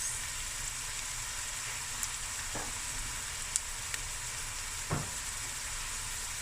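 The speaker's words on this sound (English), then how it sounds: "Now you just let this fry till it's nice and golden brown." Lamb frying in a pan with spices, fresh garlic, ginger and chili, a steady even sizzle with a few faint pops and light utensil ticks, no voices.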